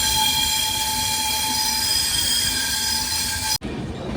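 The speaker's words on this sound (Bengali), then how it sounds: "এই কার্ভে ট্রেনের চাকা রেল লাইনের সাথে ঘষা খাচ্ছে একদম তীক্ষ্ণ একটা আওয়াজ" Wheels of the Kanchankanya Express squeal shrilly against the rails on a curve, a sustained high metallic whine over rumbling carriages, ending abruptly.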